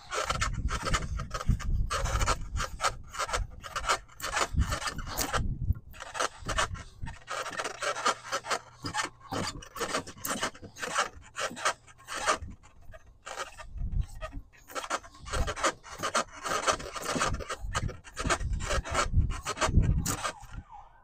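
Drawknife or rasp shaving heavy sapwood off a black locust bow stave, a steady run of close, loud scraping and rasping strokes in quick rhythm with a brief pause partway through.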